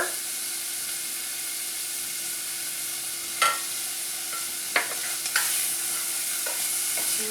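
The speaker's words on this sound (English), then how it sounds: "we're going to let those saute and soften for a minute" Vegetables sautéing in a pan for stuffed peppers give a steady close sizzle, broken by a few sharp clicks and scrapes of a utensil stirring partway through, with no talking.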